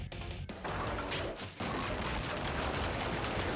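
Dense, continuous shooting at a boss in the video game ScourgeBringer, rapid overlapping gunfire and impacts forming a loud, steady barrage with no pauses after a brief opening.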